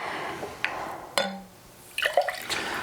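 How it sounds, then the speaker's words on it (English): Carbonated water poured into a glass for homemade orange soda, heard as a few brief splashes and trickles with faint fizzing between them, fairly quiet and close with no talking. "And then you take your carbonated water"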